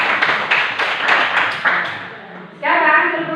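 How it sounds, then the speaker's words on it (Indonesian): A group audience claps for the first presenting group in a classroom-style session, a dense burst of applause that fades and then gives way to a voice speaking. "tepuk tangan untuk kelompok 1 dulu"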